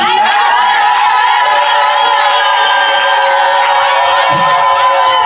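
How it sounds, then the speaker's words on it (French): A church congregation shouts and cheers with joy during a service, making a loud, continuous roar of many voices with whoops and high cries throughout. "Poussez des cris de joie."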